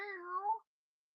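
A single drawn-out meow, clear and fairly close, lasting about half a second before silence.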